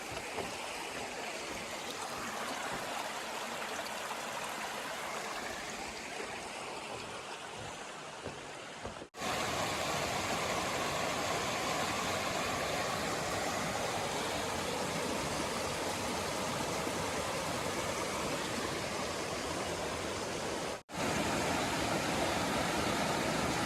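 A creek at a water crossing on the Pinhoti Trail rushes steadily with a broad hissing flow, close and constant, interrupted by two brief breaks in the sound.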